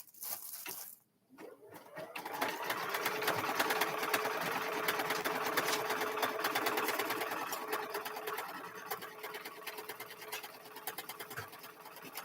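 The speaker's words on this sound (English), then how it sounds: "So now we're going to run a stitch for that middle one." A sewing machine runs a stitch, starting with a few clicks and then settling into a continuous rapid rattling stitch that stays fairly close and steady before slowing near the end.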